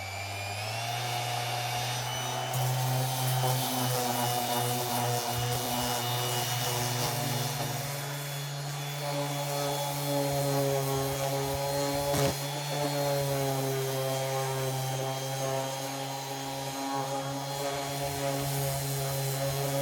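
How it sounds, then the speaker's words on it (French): A power sander works car body damage on a Nissan 100NX with 120-grit paper, giving a continuous loud whirring drone with steady tonal hum that shifts slightly in pitch. "mon ami carrossier m'a dit qu'il fallait que je ponce les dégâts en 120 déjà pour dégrossir"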